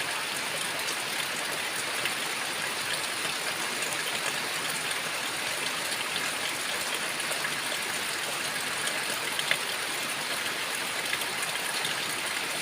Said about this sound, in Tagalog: Mablog tayo sa ulan ngayon.